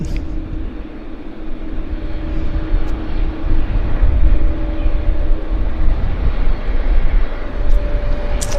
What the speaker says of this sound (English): a CRJ landing here. There it is. Air Canada